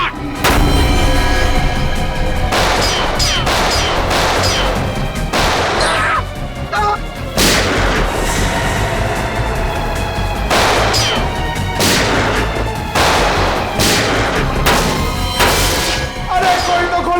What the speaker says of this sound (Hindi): मुझे भी गोली चलानी है